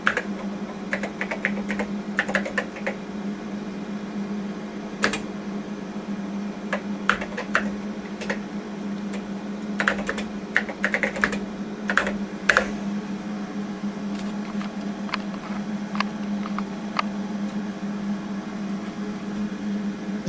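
Irregular bursts of clicky keystrokes on an old Commodore PET computer keyboard, close by, over a steady low electrical hum, with pauses between flurries.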